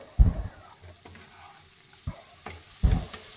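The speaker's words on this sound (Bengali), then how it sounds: "ভালো করে কষিয়ে কষিয়ে রান্না করতে হবে, জল থাকলে ভালো লাগবে না" Bitter gourd curry with spices being stir-fried in oil in a pan, a few loud spoon scrapes and knocks standing out over a low, steady sizzle, with no voices.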